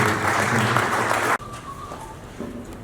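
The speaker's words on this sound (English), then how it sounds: "Please give him a round of applause." A conference audience at a corporate opening session gives a loud round of applause that cuts off abruptly after about a second and a half, leaving a quieter room.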